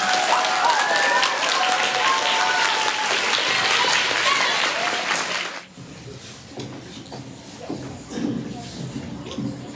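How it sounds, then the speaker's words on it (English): An audience at a fall choir concert claps loudly for the choir for about five seconds, then the applause cuts off to a quieter room with shuffling and low murmuring. "please give a round of applause to our choir"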